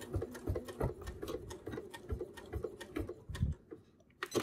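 A sewing machine stitches quilt binding with a short overstitch and back-stitch, giving quiet, rapid mechanical ticking in uneven bursts that briefly pause near the end.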